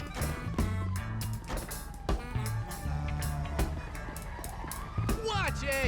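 A police siren wails in GTA V during a chase, its rising and falling tone running under loud game music, engine noise and crashes, with brief sweeping pitch slides near the end.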